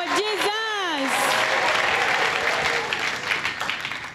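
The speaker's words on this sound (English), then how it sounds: "An applause for Jesus." A church congregation bursts into loud, sustained applause, with a voice calling out over the start before the clapping fills in as a dense, even roar.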